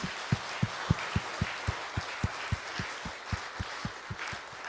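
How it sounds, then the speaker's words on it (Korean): Church congregation clapping together in a steady, even rhythm, about sixteen firm claps spaced evenly across the moment, heard from a distance with a soft roomy background and no speech. "우리를 세상의 빛으로 불러주신 우리 하나님께 영광과 감사의 박수 올려드렸으면 좋겠습니다"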